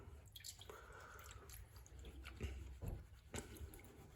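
Water is poured and sloshed into a gold pan of Montana prospecting paydirt, faint close splashes and drips with a few louder bursts of running liquid.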